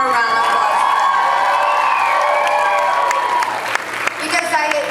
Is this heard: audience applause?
yes